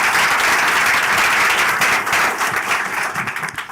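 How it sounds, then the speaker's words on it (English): Sustained audience applause at a Brand Africa 100 South Africa's best brands event, dense and steady clapping from a sizeable crowd, fairly close and loud, thinning slightly toward the end. "Please give them a round of applause."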